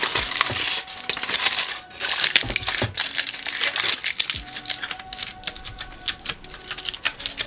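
Big pieces of tin foil ripped off a roll and crumpled for a wolf sculpture armature, a dense, continuous crinkling and tearing close up, with no talk.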